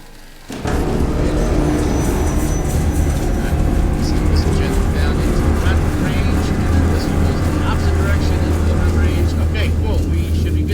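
A ground vehicle's engine in an artillery video game starts up abruptly and settles into a loud, steady, rumbling drone that runs continuously from then on, with talk mixed in over it.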